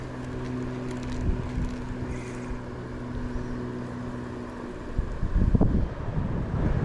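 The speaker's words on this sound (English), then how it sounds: "the wind's coming from the south" Wind gusting across a private dam where goldeye are fished, a steady broadband rush with a low hum running underneath, growing rougher and louder toward the end.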